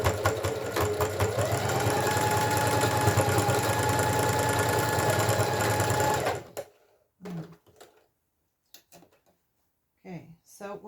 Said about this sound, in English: So last straight seam, and then we'll just zigzag the whole lot of them